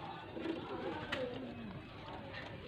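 Pigeons offered for sale by a breeder in Faisalabad coo softly in low, rolling calls, faint and somewhat distant against steady background noise.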